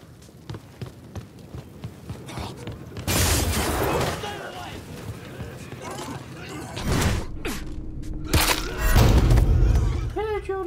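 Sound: explosion in video game Mafia 3

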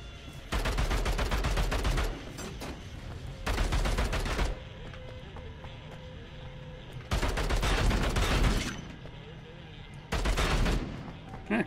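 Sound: gunfire from a gun in Bunker Punks video game

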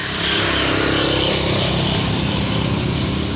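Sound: noisy passing vehicles and traffic

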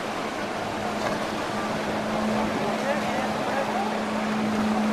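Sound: boats gathering on the sea for a race

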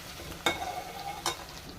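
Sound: tamarind juice added to simmering fish curry

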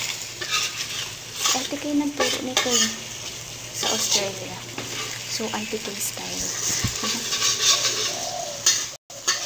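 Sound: stirring chicken curry with spice powder in pan

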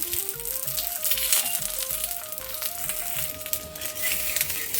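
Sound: puran poli frying in oil on a pan

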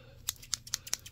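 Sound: scissors cutting during mock ASMR medical exam

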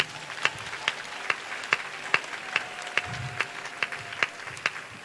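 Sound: congregation clapping

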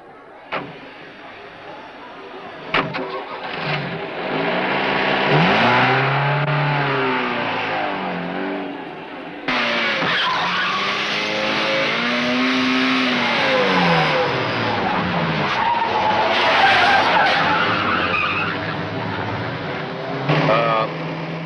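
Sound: car engine starting and driving off

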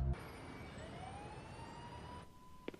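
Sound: ambulance siren

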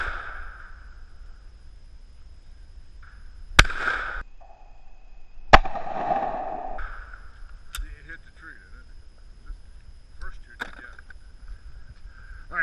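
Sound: shotgun shooting at sporting clays

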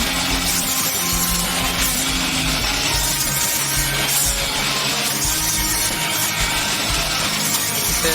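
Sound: power tool cutting wood

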